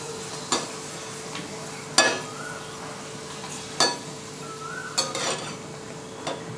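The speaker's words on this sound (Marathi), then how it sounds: "हे पहा तेल थोडंसं हलवून घेतलं म्हणजे एकसारखा ताव तेलाला येतो." Hot oil for frying rice flour papad is stirred in a pan, with five or six sharp clinks of a metal spoon against the vessel at irregular intervals over a soft background hiss, fairly quiet and close.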